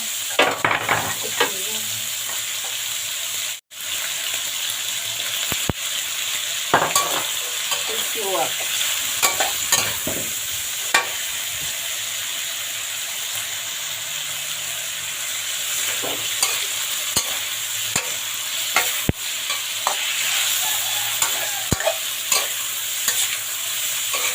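Pork sizzling in a pan for sweet and sour stir-fry, with continuous close frying hiss and repeated scraping strokes of a spatula stirring throughout, no talking.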